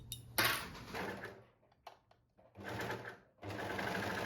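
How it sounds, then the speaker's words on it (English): An overlocker stitches a seam on a stretch mesh dress in short close bursts, running briefly, pausing, then running again in two longer rattling runs with quiet gaps between. "So let's sew this up on the overlocker."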